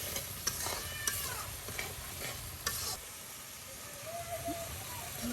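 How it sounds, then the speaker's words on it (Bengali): Turmeric powder stirred into hot oil gives a close, crackling fry with rhythmic scraping strokes in a village kitchen, while a cat meows several times in the background. "আবারও হলুদ গুঁড়া দিয়ে তেলের সাথে মিক্সড করে দেওয়া হচ্ছে।"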